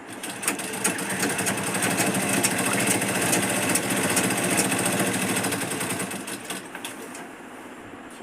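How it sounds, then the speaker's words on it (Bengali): Sewing machine stitching a saree at night, a loud, steady rapid whir of the needle running continuously up close, easing slightly toward the end. "তো এই শাড়ি সেলাই করছি"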